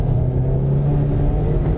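A race car on a track roars steadily at high revs, a loud close engine drone with a strong low hum that holds throughout under acceleration.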